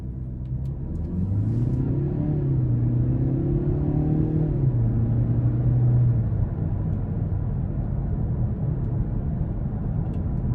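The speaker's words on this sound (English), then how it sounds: "for this being a 6-speed automatic, the transmission actually shifts very well" A 2020 Lincoln MKZ 2.0T with a 6-speed automatic, heard from inside while driving: a steady low engine drone whose pitch climbs and then drops smoothly as the transmission shifts gears, with no talking.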